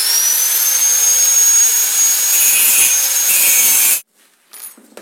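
An angle grinder cutting the rubber on a Suzuki Verza 150 motorcycle clutch cable, a loud sustained high whine for about four seconds, then it stops abruptly and leaves faint rustling.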